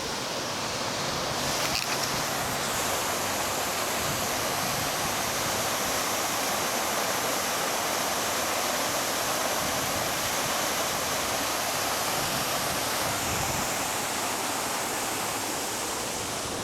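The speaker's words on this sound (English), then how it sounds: "The plaza, the main plaza, has several fountains." Water fountains in a civic center plaza give a steady, full splashing rush that runs unbroken throughout with no talk.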